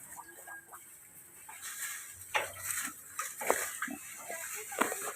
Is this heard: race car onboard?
no